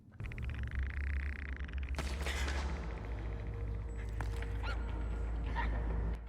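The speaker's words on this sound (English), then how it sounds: "Dog?" A dog barks in a TV drama scene, coming as a sudden sharp burst over a low rumbling background and followed by fainter scattered noises, all fairly quiet.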